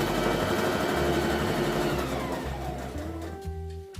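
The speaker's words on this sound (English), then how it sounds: "So this is the 3rd side and our final side that we're sewing." A sewing machine stitches the last side of an envelope pillow cover, running with a steady close motor whir and rapid needle chatter that slows and shifts pitch toward the end.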